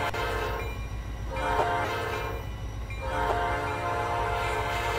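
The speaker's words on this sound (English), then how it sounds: "Then here comes the locomotive himself over the railroad crossing." A locomotive horn in the Roblox RO-Scale game sounds at a railroad crossing in two long, loud blasts over a steady rumble of train wheels.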